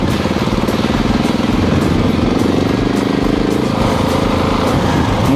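KTM 690 motorcycle with Rade Garage upgrades, engine running steadily and loud up close while riding offroad, a continuous throbbing drone with no talk.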